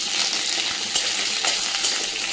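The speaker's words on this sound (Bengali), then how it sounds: "এর মধ্যে আমি শুকনো লঙ্কা, 5 ফোড়ন আর একটা তেজপাতা ফোড়নে দিয়ে দিলাম।" Dry red chilli, five-spice and a bay leaf tempering in a spoon of hot mustard oil, a bright continuous sizzle with occasional louder pops, close and steady, nobody speaking.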